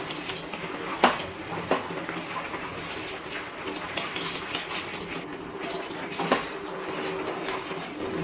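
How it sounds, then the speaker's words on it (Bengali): A spoon stirring jaggery batasa into milk in a metal pot for raw papaya kheer, with scattered clinks and scrapes against the pot over a low background hum. "নাড়াচাড়া করে বাতাসা গলিয়ে নিচ্ছি দুধের মধ্যে।"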